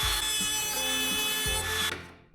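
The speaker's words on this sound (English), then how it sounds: "cleanly removed the remaining waste with a straight cut bit in the trim router" A trim router fitted with a straight cut bit whines steadily as it clears waste wood, cutting for about two seconds before the motor drops away, with no talking.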